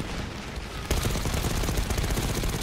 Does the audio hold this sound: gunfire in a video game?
yes